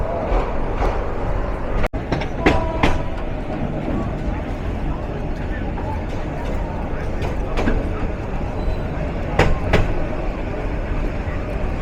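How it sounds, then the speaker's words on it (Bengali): An up Dewanganj commuter train runs on the rails just out of Jamalpur Town junction, giving a steady loud rumble with intermittent clicks and clatter from the wheels, heard from aboard. "আবারও যাত্রা শুরু করলো আপ দেওয়ানগঞ্জ কমিউটার"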